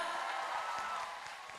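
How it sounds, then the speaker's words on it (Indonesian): Students applaud at a high school event, a dense, steady wash of many hands clapping at a moderate distance, fading slightly toward the end. "Tepuk tangan dulu teman-teman."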